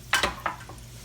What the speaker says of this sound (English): take them, drop them right in the fryer.